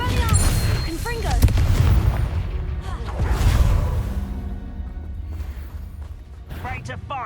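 Fiery spell blasts in the Hogwarts Legacy video game, booming and crashing in quick bursts with whooshes, mixed with combat noise as voices speak over the action.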